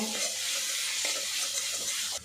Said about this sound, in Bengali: গুঁড়ো মশলা দিয়ে আদা রসুনের সাথে বেশ কিছুক্ষণ ভাজা ভাজা করে নিয়েছি